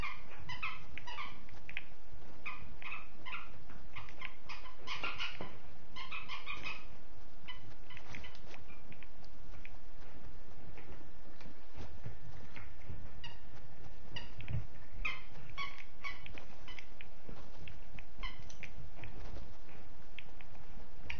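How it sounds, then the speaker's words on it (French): A dog plays and makes noise off to one side during a Fortnite live session on PS4, with scattered yips, scuffles and thumps at modest level among game sounds. "Je m'excuse pour le bruit, mais c'est mon chien"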